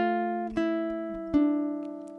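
A ukulele is fingerpicked in a Travis-picking pattern for one measure of an etude: three or four clear plucked notes, each ringing and slowly decaying, quiet and close, with no other sound.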